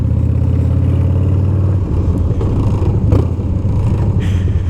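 A Harley-Davidson Dyna FXDL motorcycle with a TBR Comp-S exhaust, a loud, close, deep rumbling idle that shifts into rougher revving and clatter partway through.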